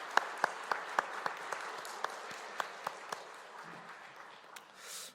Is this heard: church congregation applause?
yes